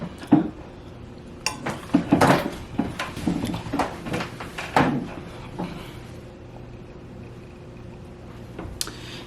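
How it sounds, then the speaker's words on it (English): A door is shut amid a few knocks and rattling clatter, with a quiet room hum lingering afterward. "But let me close the door."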